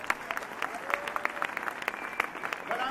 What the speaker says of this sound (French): On les applaudit, merci à eux.